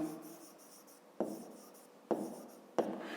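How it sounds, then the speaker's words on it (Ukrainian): A pen or pencil writes numbers by hand during a fifth-grade maths exercise. Soft, close scratching is punctuated by three sharper taps as strokes begin, all quiet and free of talk. "Записуємо тоді 2 і пишемо числа"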